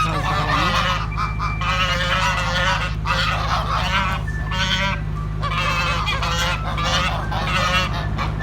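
A flock of geese honks loudly and continuously, many overlapping calls close by over a steady low rumble, with no talking.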